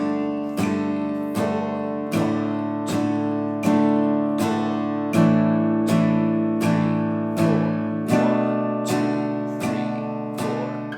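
An acoustic guitar plays steady single down strums at 80 BPM, about fourteen evenly spaced chords ringing into one another, close and alone.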